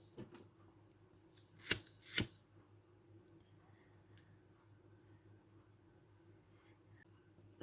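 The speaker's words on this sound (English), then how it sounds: "Cutting my thread at this end here." Two quick, crisp snips of scissors cutting beading thread during bracelet making, close and clear over a quiet room with a low steady hum.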